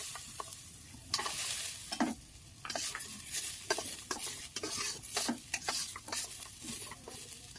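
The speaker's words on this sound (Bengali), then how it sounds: "এই কিশমিশগুলো আমি টুকরো করে কেটে রেখেছি, এগুলোকে আমি ভেজে নিচ্ছি। কাজুগুলোকেও ভেজে নেব।" Chopped raisins and cashews fry in ghee for simui payesh, a soft sizzle broken by repeated spatula stirs and scrapes against the pan, fairly quiet and close, with no voices.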